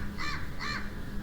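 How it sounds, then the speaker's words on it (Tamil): Crow cawing in the Max Payne video game, two clear harsh caws in quick succession over a steady background hum. "காக்கா வேறு கத்துது"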